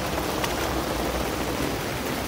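Heavy rain pours onto a Mongkok street near the KCR station in Hong Kong, a dense and steady roar of water with no voices.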